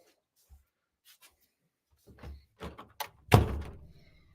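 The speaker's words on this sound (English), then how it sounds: "Or I might just close the door." A door swung shut indoors on a cold day, preceded by a few soft shuffles and bumps, then a single firm thud near the end that rings out briefly, close by, no talking.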